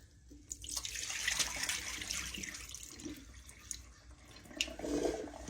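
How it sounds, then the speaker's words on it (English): Rinse water drained off cut potatoes in a kitchen sink, a steady splashing pour that runs for several seconds with a brief louder gush near the end. "And then drain this water out."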